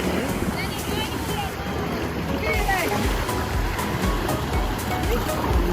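Waves wash onto a small beach in Croatia, a steady rushing surf mixed with wind buffeting the microphone, with faint voices talking in the background.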